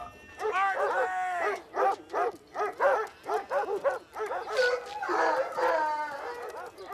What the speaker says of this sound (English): And then there were the bumpus hounds. Oh, 43 of them, all named Big Red.